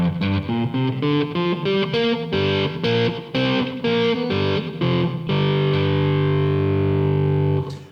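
A distorted electric guitar riff picked out fingerstyle, a run of quick plucked notes that settles into a sustained ringing chord, loud and close.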